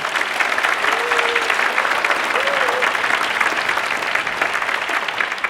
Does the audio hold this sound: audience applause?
yes